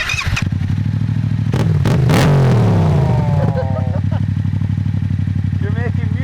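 Honda CBR600RR sport bike engine idling and then blipped hard, rising to a loud close rev that falls away and settles back to a busy idle with a second quick blip, while people talk over it.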